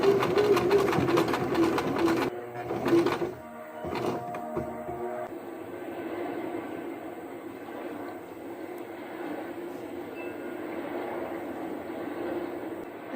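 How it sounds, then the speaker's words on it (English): A sewing machine hums steadily and close up while stitching the strap of a DIY patchwork sweatshirt, with a brief stop and restart around the third second and then a softer continuous whir. "Anyways, about to sew."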